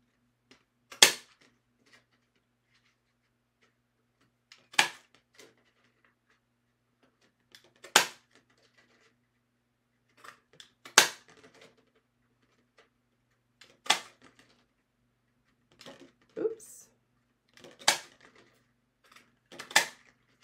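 A handheld craft punch snaps through paper to cut out small foot shapes, about eight sharp, crisp clicks at an uneven spacing of roughly two to three seconds, close and clear in a quiet room with no talking.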